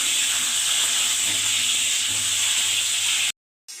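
Pointed gourd (potol) pieces fry lightly in hot oil for a soybean-stuffed dorma, giving a steady, close, even sizzle and hiss that cuts off abruptly near the end.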